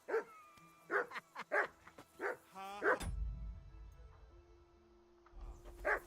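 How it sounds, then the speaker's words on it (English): A dog in the video game Kingdom Come: Deliverance 2 barks in a quick series of sharp yelps, then a low rumble follows before one more bark at the end. "call that dog, Henry?"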